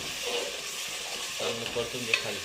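Curry leaves, coriander, green chilli and tomato sauté in hot oil for khichdi, giving a soft, continuous sizzle broken by scraping stirs of a spoon against the pan, close and fairly quiet, with no talking.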